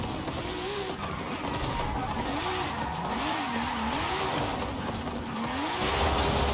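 Car engine in Forza Horizon 5 during a drifting attempt, a steady mid-pitched drone that rises and falls in wavering revs, moderately loud and continuous with no talking.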